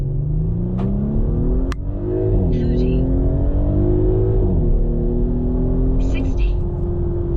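A 2018 Audi SQ5, a heavy single-turbo SUV, accelerates hard from a standstill in sport mode with traction control off, its engine note climbing steadily through the gears with brief shift dips, loud from inside the cabin while someone talks over it.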